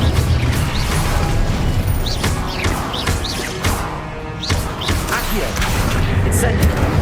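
Incendio fire spell from the Hogwarts Legacy video game, a run of bursting magical blasts and crackles over busy battle noise while a voice speaks over the action.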